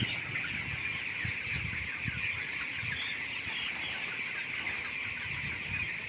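Chickens cluck at a poultry farm, a steady dense backdrop of many birds mixed with constant hiss and a high ringing tone, moderately loud and without speech.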